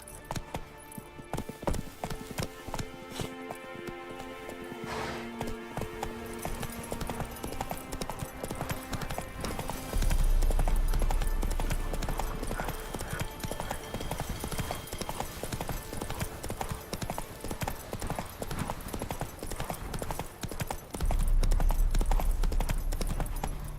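Hooves of Roach, the horse in The Witcher 3 video game, clatter in a fast, steady galloping rhythm over a tonal background that runs throughout, growing louder in two stretches.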